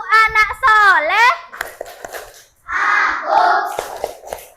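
A class of children claps along to the Tepuk Anak Soleh ice-breaking chant in an elementary school classroom. Groups of quick, loud claps come close by, mixed with shouted and sung voices.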